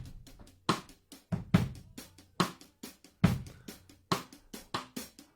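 Full drum kit picked up by a pair of overhead microphones in a studio mix, with punchy, evenly spaced hits and crisp cymbal wash in a steady groove, moderately loud and close, no voices.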